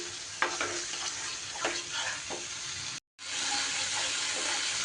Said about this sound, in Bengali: এইবার আবারও সুন্দর করে মশলা একদম ভালো করে কষিয়ে নিতে হবে।